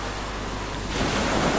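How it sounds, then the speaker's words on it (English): Stormy sea waves and wind make a dense, loud roar that swells and grows rougher partway through, with no voices. "The wind was still blowing. The waves were bigger than ever."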